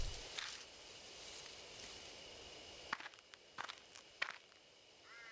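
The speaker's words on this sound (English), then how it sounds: "There are footsteps close by, from the bushes." Footsteps moving through bushes in the horror adventure game Spirit Hunter: Death Mark: scattered light rustling steps and crunches over a steady quiet ambience, growing sharper and more frequent toward the end.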